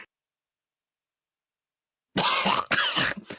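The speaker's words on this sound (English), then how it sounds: "Oh god, I'm coughing up blood." After a long stretch of silence, a person coughs loudly and harshly up close during a tabletop role-playing game session, two rough hacking bursts in quick succession.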